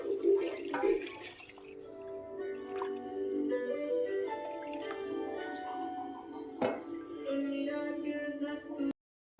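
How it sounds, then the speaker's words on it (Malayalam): Water is poured from a glass into a pot of rice for chicken rice, a close gurgling splash whose tone rises as the vessel fills. It stops abruptly near the end. "ഈ വെള്ളം ഇതിൻ്റെ അകത്തേക്ക് ഒഴിക്കാവേ"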